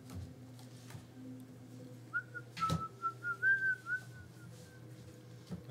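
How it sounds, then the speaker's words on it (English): Someone whistles a short, faint, wavering tune during a tabletop game session, a couple of soft knocks and low room hum underneath and no talk. "I can't whistle."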